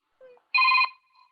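A telephone rings once in a short electronic burst, clear and fairly close, preceded by a faint brief sound, on a theatre stage.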